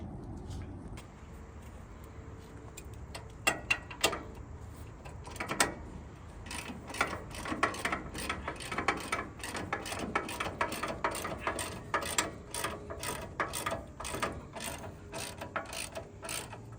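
Ratchet wrench clicking and metal clanking while sway bar bolts come off a first-generation Toyota Tundra, with close, busy bursts of ratcheting over a low background hum and no talk.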